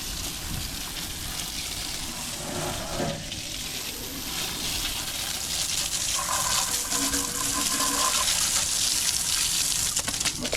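A garden hose sprays water to rinse Chemical Guys Diablo wheel cleaner off car wheels, a steady hissing gush that grows louder and splashier partway through.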